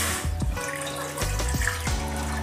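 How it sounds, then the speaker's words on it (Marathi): A tumbler of water is poured from a pot into a cooking vessel on a gas stove while making chakli dough. The splashing stream is steady and close, with a few louder sloshes over several seconds. "आता पाणी घालायचं एक तांब्या."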